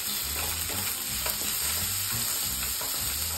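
Goat steak pieces roast in a pan with a continuous close sizzle, while irregular stirring scrapes and knocks sound over the frying.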